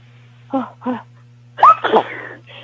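A couple of short, sharp sneezes close by, followed by a brief burst of voices reacting, over a low steady hum.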